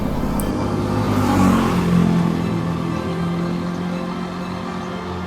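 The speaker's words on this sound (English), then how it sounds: "like any place in Bangkok, there's a lot of traffic. So motorcycles, cars, trucks, they're all there" Bangkok street traffic with motorcycles, cars and trucks, a steady close wash of engine noise with one vehicle revving and passing nearby, continuous and fairly loud with no talk.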